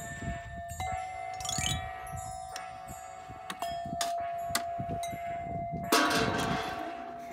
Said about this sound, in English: We need a little chime.